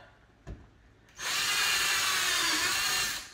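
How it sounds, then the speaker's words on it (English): A power drill bores into the front bumper of a sixth-generation Camaro while canards are fitted: one short knock, then a steady, close, high whine of about two seconds that stops cleanly. "you don't want to just drill blindly into here"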